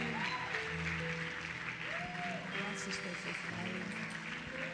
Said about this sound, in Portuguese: E a igreja diz, aplauda Jesus